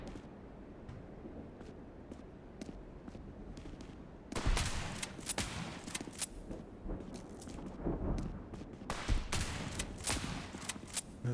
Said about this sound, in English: I threw a grenade at the ground!